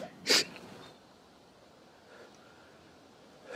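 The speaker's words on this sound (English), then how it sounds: "He heard me, my blasted sneeze." A single sharp, close sneeze bursts out near the start in a wooded setting, followed by quiet breathing and soft rustling.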